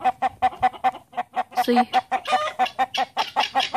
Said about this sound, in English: he is a Cooper Moran mix rooster